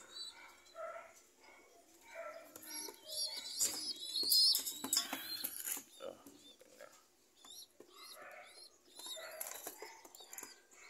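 Several caged birds, including sick fledglings with swollen eyes, chirp and call in short bursts at close range, with a brief louder flurry of calls in the middle, and a voice talking over them.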